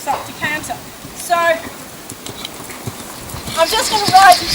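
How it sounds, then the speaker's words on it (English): A horse's hooves beat in a steady canter rhythm during a riding lesson, the muffled footfalls close by and continuous under a rider's intermittent talk. "engages, and my horse steps up to canter."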